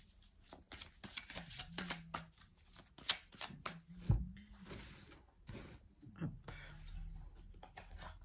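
Oracle cards from The Oracle of the Radiant Sun deck being shuffled by hand, a run of soft riffling flutters and slaps close by, with a voice talking at moments in between.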